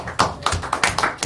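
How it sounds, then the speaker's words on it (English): Brief hand clapping at a school board meeting, a handful of close, sharp claps in a quick uneven rhythm. "You got applause."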